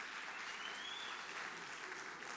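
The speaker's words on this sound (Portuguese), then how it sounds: "Uma salva de palmas para eles." A church congregation claps steadily and densely for a couple of seconds, a continuous wash of applause with no pauses.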